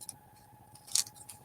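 Scissors snip through paper during scrapbook collage work, a brief sharp cut near the middle over a soft, quiet background with a few fainter snips around it.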